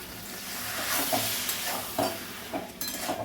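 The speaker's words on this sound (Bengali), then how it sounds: "মশলাটা ভালো করে কিছুক্ষণ কষিয়ে নিয়ে এবার একটু জল দেব।" Masala paste for chal potol, a rice and pointed gourd dish, sautés in a pan with a soft continuous sizzle while a spatula scrapes and taps the pan several times at an irregular pace.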